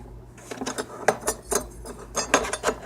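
A metal knife clinks and scrapes against the inside of a glass pickle jar in a run of sharp, close taps and rattles, quiet and fairly steady.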